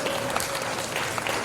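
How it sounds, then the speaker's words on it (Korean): A congregation at a church revival meeting claps together, a dense, steady wash of applause filling the whole stretch evenly, with no voices standing out. "함께 박수 한 번 하겠습니다."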